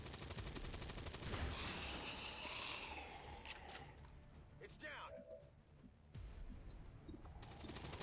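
Soldiers firing on enemies in XCOM 2, a run of gunshots and weapon bursts among mechanical clicks and effects, fairly faint, with a voice talking over the action.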